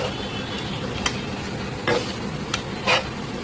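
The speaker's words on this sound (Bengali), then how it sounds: "এখন এটা ভালোভাবে মিক্সড করে ভেজে নেব আলুটা।" Potatoes with turmeric frying in oil while being stirred, a continuous sizzle broken by several sharp scraping stir strokes of the spoon against the pan.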